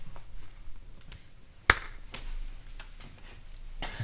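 One sharp, loud hand clap, used as an edit marker, cuts through an otherwise quiet room, with faint shuffling noises around it.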